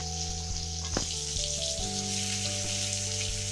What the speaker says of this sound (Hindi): ये जी मैं पिज्जा फ्राई कर रहा हूँ आलू की